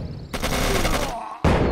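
Loud bursts of automatic gunfire in the Codename: Panzers Phase One war game: one sustained volley, a brief gap, then another sharp burst starting up.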